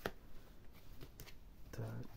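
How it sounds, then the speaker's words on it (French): A deck of cards is cut into several parts and shuffled, producing soft papery riffles and taps that are fairly faint. "découper le jeu en plusieurs parties pour vraiment bien le mélanger"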